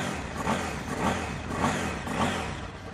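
A KTM 990 Supermoto twin-cylinder motorcycle engine revs in repeated surges, rising and falling about twice a second, close and steady with no talking.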